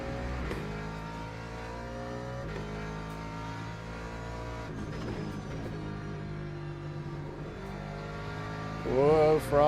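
Race car engine under throttle through a long corner in Le Mans Ultimate, a sustained loud drone with shifting pitch and a sharp rising rev at the end.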